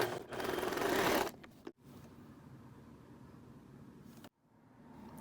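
A domestic sewing machine running a narrower zigzag stitch, a loud steady whir for just over a second, then cutting out to quiet room noise with a brief pause and a soft restart near the end.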